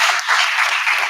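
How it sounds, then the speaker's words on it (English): A short burst of dense applause at a Vedic wedding ceremony, a crowd clapping steadily and fairly loud throughout. "big round of applause"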